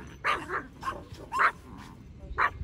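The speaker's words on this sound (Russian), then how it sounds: "Вторая собака тоже гавкает." A second dog gives a few separate yipping barks close by, spaced unevenly over a couple of seconds, moderately loud against a quiet background.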